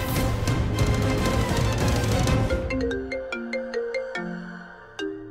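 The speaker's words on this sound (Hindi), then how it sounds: "पापा का फोन।" A phone ringtone plays a melodic electronic tune, shifting into a sequence of bright chiming tones, loud and close with no voices.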